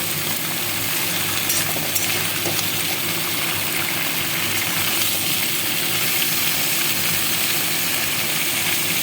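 Drumstick pieces with tomato and salt sizzle steadily in a pan, a dense, even hiss that runs unbroken and fairly loud throughout, with a faint low hum beneath and no voices.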